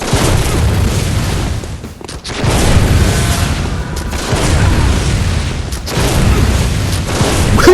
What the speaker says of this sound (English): Will you stop fucking shooting me?